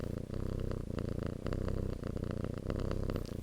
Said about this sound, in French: Quand il ronronne, ça fait un bruit de moteur à mon aéronef.